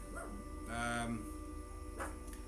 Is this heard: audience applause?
no